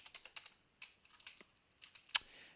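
Typing on a computer keyboard comes through as quiet, uneven clusters of sharp key clicks with short pauses between bursts.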